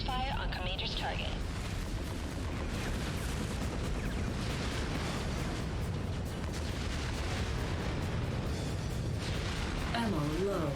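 Mech weapons firing in battle in the video game MechWarrior 5, a continuous barrage of booming, crackling gunfire and explosions that stays loud throughout, with a warbling electronic tone near the start and end and someone talking over it.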